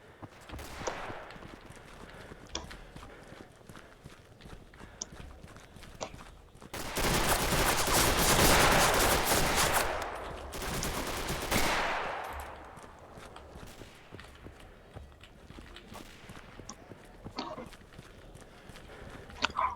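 Italian guns in the multiplayer war game Mare Nostrum fire a dense, loud fusillade for about five seconds in the middle, with scattered fainter shots before and after.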